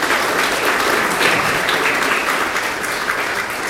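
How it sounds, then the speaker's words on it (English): Steady audience applause at an association's annual meeting, a dense, even roar of many hands clapping together that holds at full strength throughout with no voices over it. "If we could give them a round of applause for their years of support"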